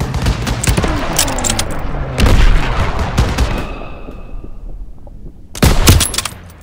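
Heavy gunfire rattles through a Call of Duty: WW2 stronghold battle in Marigny, France, 1944, with machine-gun bursts and booming shots close and loud, a brief lull, then another sharp volley.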